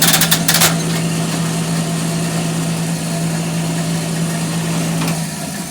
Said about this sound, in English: we lubed up the motor and everything and made her run